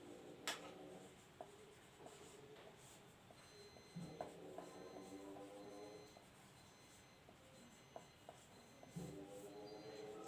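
Pen scratching across paper in quiet, faint strokes, with short bursts of writing and small taps spread over several seconds.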